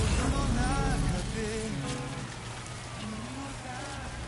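Steady rain falls in the video game Death Stranding, a dense continuous hiss of drops that fills the scene, with faint low voice-like murmurs underneath.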